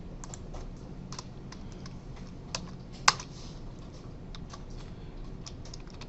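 Scattered keystrokes on a computer keyboard during a C++ programming lecture on arrays, faint and irregular clicks with one sharper louder tap, over a low room hum and with no talking.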